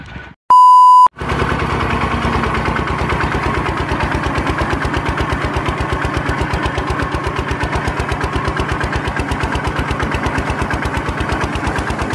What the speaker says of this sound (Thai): เอารถไถย่ําก่อน